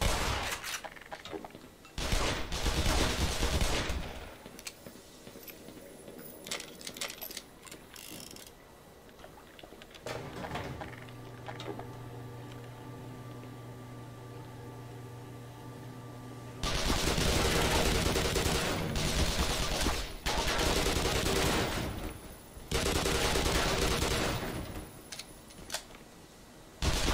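Soldiers firing guns in the video game Black Mesa: several loud bursts of rapid automatic gunfire separated by quieter stretches, with a steady mechanical hum in the middle section.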